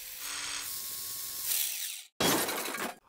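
A Hot Wheels Criss Cross Crash toy car track running, a whirring motorized booster and buzzing plastic rattle that stop briefly, then a harsh close clattering burst as the cars race through.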